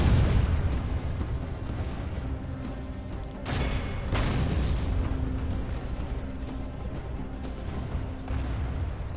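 Later-era artillery fires in the Medieval 2 England campaign battle, with heavy booming blasts rising over a continuous roar of battlefield noise.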